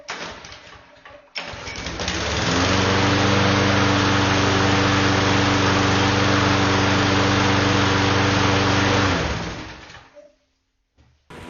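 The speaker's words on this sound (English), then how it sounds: "And now, the gas-powered mower." Gas-powered lawn mower started and run close up, a loud steady droning engine that holds for several seconds before winding down and cutting off.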